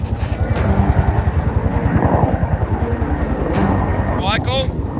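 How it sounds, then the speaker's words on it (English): Rescue helicopter arriving on a callout, its rotor pounding in a rapid, loud, steady chop close by, with a person speaking over the thudding blades. "the aircraft's coming in now"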